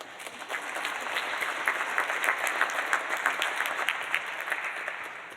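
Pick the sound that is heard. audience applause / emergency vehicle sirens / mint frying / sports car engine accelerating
audience applause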